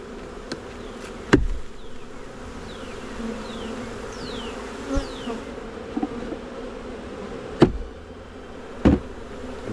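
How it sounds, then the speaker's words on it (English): Honey bees buzzing around a hive box during a hive transfer, a soft steady drone with individual bees zipping past the microphone and a few sharp knocks on wood. "just get all the bees out of the box that I'm transferring."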